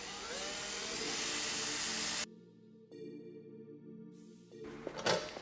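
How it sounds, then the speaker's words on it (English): A small starter drill bit bores holes in a front splitter endplate on a BRZ/FRS/GT86, with a steady loud whir for two seconds, then quieter intermittent drilling with pauses and a brief scrape at the end. "You always want to start with a starter drill bit."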